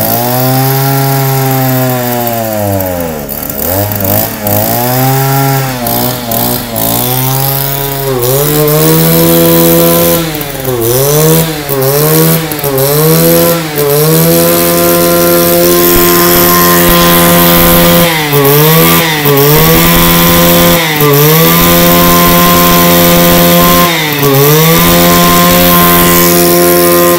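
A Japanese two-stroke brush cutter engine, 34 mm B10 with recoil starter, runs loud and close, revving hard repeatedly with sharp throttle blips rising and falling over a steady idle.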